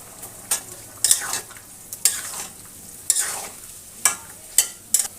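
Cauliflower, katla fish and new potato curry is stirred in a pan: about eight sharp scraping strokes at an irregular pace, close up over a faint sizzle.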